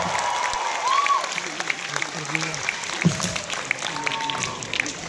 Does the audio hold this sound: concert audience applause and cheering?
yes